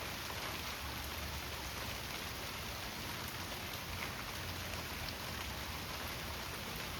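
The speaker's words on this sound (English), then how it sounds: "Listen to the sounds of the rain pelt down on the cement." Steady rain pelting down onto cement outdoors, a dense, even hiss that holds at a moderate level throughout with no voices.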